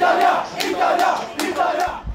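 Italian-Australian football fans in Melbourne chant and cheer together in loud, rhythmic surges, a close crowd celebrating with no separate speaker standing out.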